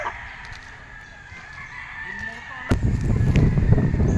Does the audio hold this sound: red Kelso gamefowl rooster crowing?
yes